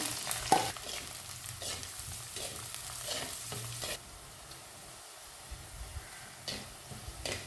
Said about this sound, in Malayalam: ഇനി ചെറുതായി അരിഞ്ഞ ഇഞ്ചി വെളുത്തുള്ളി ഇട്ട് കൊടുക്കാം ചെറിയ ഉള്ളി പച്ചമുളക് ഇട്ട് കൊടുക്കാം